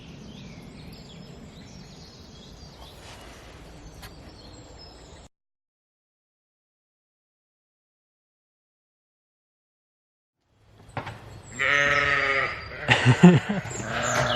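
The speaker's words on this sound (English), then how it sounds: "Sheep coming in for breakfast." Sheep bleating at a farm as the flock comes in for breakfast, several loud close bleats in the last few seconds, after an earlier stretch of faint background noise and a pause of silence.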